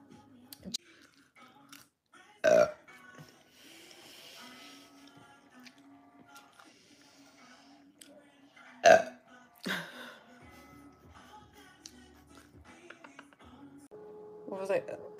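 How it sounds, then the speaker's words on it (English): Two loud, close burps from one person stand out, each followed by small chewing and mouth sounds, with quiet background noise and a faint tonal hum running under everything. "Of me burping."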